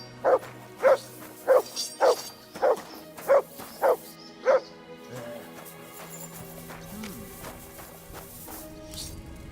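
Mutt the dog barks in Kingdom Come: Deliverance II, eight loud, evenly spaced barks close by, followed by quieter ambient game sound.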